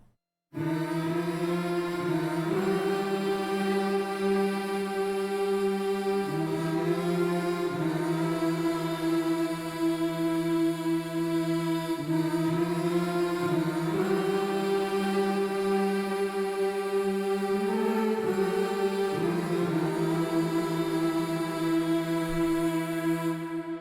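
Layered choir vocals blending hummed and sung voices into one sustained wash, rich harmonic chords changing gradually every few seconds, steady and uninterrupted without speech.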